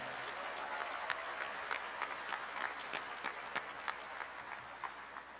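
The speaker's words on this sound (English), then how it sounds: "Please join me in giving them a warm round of applause" At a middle school graduation ceremony, a fairly distant, modest audience keeps up applause for several seconds, with a few individual claps standing out close by over the soft, even patter.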